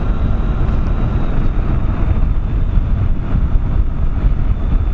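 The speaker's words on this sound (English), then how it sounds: "The wind noise on this at the minute, I mean, we're only doing 57, 58 mile an hour, and the wind noise is so intrusive." Heavy, constant low roar of wind buffeting a rider on a Triumph Tiger 800 XCX motorbike at about 57 mph, loud and unbroken with a faint engine drone underneath and no speech.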